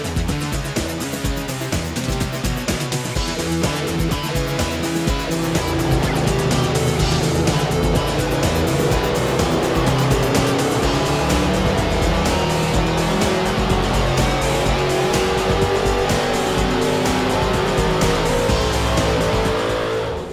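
An LS2 V8 runs on a dyno with ENEOS 050 weight synthetic oil, a loud sustained pull whose harmonic roar climbs steadily in pitch for the full stretch, close and unbroken, with no talking.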